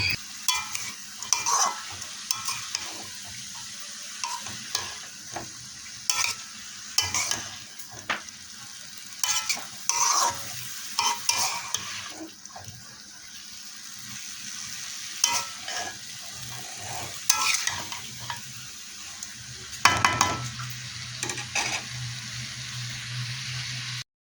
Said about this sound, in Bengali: ভাজিটা প্রায় হয়ে গেছে, একটু নেড়ে নেব।